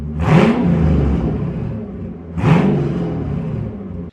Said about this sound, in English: we should also do an open header clip because I have the headers open right now